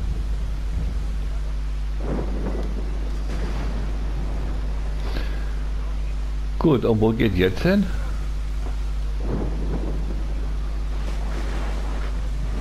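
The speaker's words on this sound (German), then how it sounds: "Ja, was für ein Unwetter hier, ey." A thunderstorm at sea aboard a ship in Assassin's Creed Odyssey rolls on as a steady low rumble of wind and waves, while someone talks over it.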